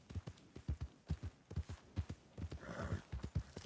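Horse hooves clip-clop steadily in the video game Red Dead Redemption 2, an even, rhythmic trot at moderate distance, with a brief breathy snort partway through and no talk over it.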